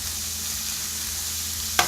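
Diced pork hits a hot frying pan with onion and chicken stock for Malaysian special fried rice, a steady soft sizzle with a brief sharper burst near the end, no talk.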